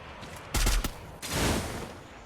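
A rapid burst of several gunshots, then a sharp blast with a longer rumbling tail; Free Fire video-game gunfire, close and loud, with no talking.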